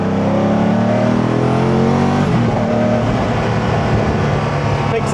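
A 1,360hp Koenigsegg Agera N hypercar accelerates hard from inside the cabin, its engine note climbing in a loud continuous drone, dropping briefly at a gear change around midway, then rising again.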